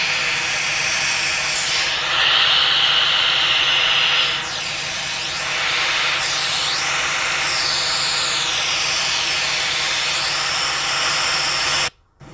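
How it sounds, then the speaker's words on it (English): Airliner engine 1 spooling up during start in the Infinite Flight video game, a loud steady broadband roar with rising and sweeping high tones that continues throughout, then cuts off abruptly at the end. "As you can see, engine 1 is now rising."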